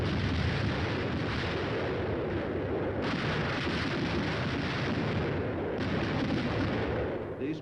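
Air bursts from a battalion of 105mm howitzers fired against troops in open fields, a dense, continuous roar of overlapping blasts and rumbling reports that stays loud and sustained throughout.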